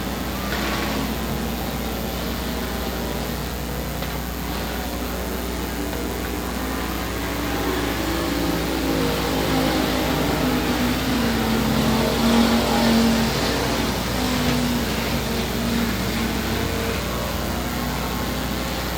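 Factory stock race cars lapping during a heat race at Rose Bowl Speedway, a continuous engine roar from the track with one car's note rising and passing nearer midway, steady and moderately loud, no clear voices.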